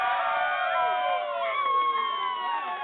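A crowd cheers and whoops in one continuous, excited burst that carries a few high, shrill voices and holds steady from start to finish.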